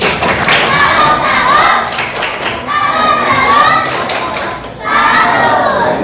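A group claps together in rhythmic bursts, loud and close, with the pattern repeating a few times.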